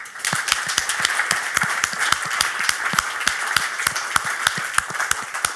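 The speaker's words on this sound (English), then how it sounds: "A big round of applause for Jane Croucher." A crowd at a live investing seminar claps steadily, a full ongoing ovation with sharp distinct claps over the broad hiss of many hands and no voices heard.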